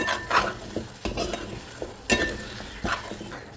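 Small onions, curry leaves, green chilli and ginger-garlic paste fry in a pan for Kerala-style chicken curry, with a steady sizzle broken by several close scraping stirs of a spoon against the pan.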